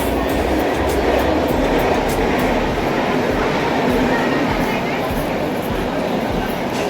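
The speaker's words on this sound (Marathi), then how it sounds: "दिवा ट्रेन बघा" A Diva local train rolls into a crowded station platform, its loud steady rumble and rattling wheels filling the air alongside the murmur of the crowd.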